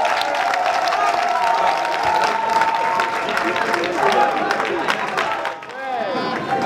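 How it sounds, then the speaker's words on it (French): Crowd applauding at a community gathering in Côte d'Ivoire, a loud continuous burst of clapping with some cheering and background voices, easing slightly near the end. "On peut applaudir."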